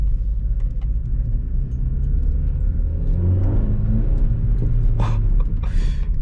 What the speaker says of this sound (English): This car is so loud.